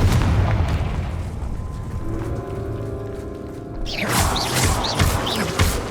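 A Confringo blasting spell in Hogwarts Legacy bursts with a sudden crackling explosion, followed by scattered sparkling debris and small pops after a quieter, humming buildup.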